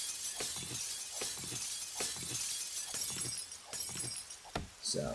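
Glass shatters again and again as a player breaks panes in the video game 7 Days to Die Alpha 15, a run of sharp crashes in a steady rhythm, loud and close.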